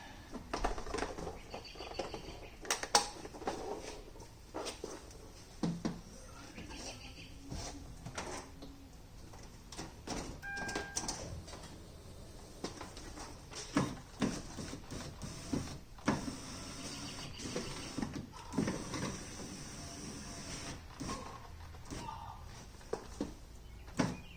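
Power window regulator inside the opened door of a 2009-2010 Hyundai Sonata runs up and down with the ignition on, giving a faint, intermittent motor whir among clicks and handling noises, with quiet talk around it.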